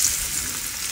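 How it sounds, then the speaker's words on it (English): Breaded tofu sizzles in hot oil, a close, continuous crackling fry hiss with no voices over it. "Okay, on to the frying."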